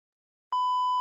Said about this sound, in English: Do the beep